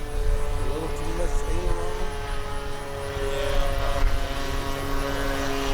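A Phoenix 1:6.5 scale RC Cessna Skylane 182 model airplane drones on its maiden flight over a grass field, its propeller engine giving a steady buzzing whine that shifts slightly in pitch, with people talking nearby.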